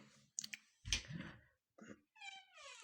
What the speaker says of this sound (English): it's just my cat, Patchy.